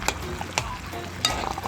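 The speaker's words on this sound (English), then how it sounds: "Stir up time." Fry dumpling dough is stirred in a bowl, soft scraping and slapping strokes at irregular intervals, close and fairly quiet with a light wet texture.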